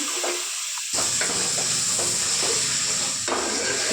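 Chopped tomatoes hit a hot pan seasoned with salt, turmeric and coriander powder, setting off a sudden steady hiss and sizzle that continues with occasional clinks of stirring, close and even throughout.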